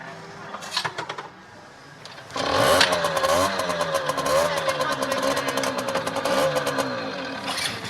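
A scooter engine idles, then revs up loudly and keeps buzzing and rising in pitch in repeated bursts, close by.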